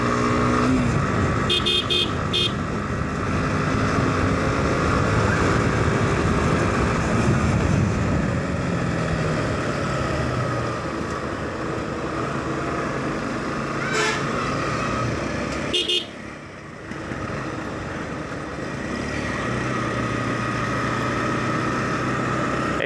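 A Bajaj Pulsar AS 150 motorcycle riding on the road, its engine a steady loud roar with wind rushing past a helmet-mounted phone, while car horns toot and other traffic passes nearby.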